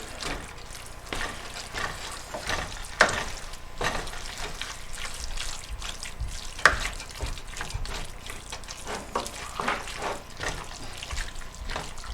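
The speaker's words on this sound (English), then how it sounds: "Now the meat's cooking down. See all the fat coming out of it. Just give it a good stir." Meat fries in its rendered fat in a home kitchen pan, with a steady close sizzle and occasional scraping clinks as it is stirred; no talking.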